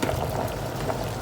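Purple vegetable broth bubbling steadily in a cooking pot, a dense continuous burble of small popping bubbles heard up close with no one talking.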